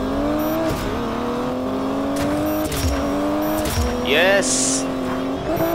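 A race car in Need for Speed Payback revving hard through rising gear shifts, loud and continuous engine whine with pitch drops at each shift, tire noise and a voice speaking over it.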